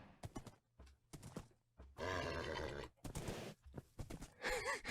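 A horse in the video game Minecraft Sky Factory 4 gives loud, close neighs and snorting grunts in several bursts, with a long wavering whinny in the middle.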